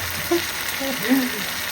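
Tomato, onion, garlic, turmeric and salt sauté in a pan for a fish curry, a soft steady sizzle with a faint scrape or two, close and moderate in level.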